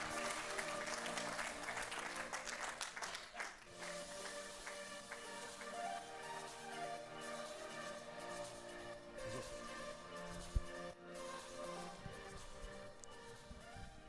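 A live audience applauds for the new US Créteil Handball coach at a season presentation inside the Maison du Handball, with steady, sustained clapping throughout.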